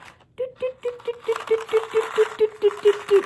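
A homemade rain-sound instrument is turned by hand, giving a quick, even series of about a dozen close, pattering ticks with a slight ringing tone, steadily growing busier.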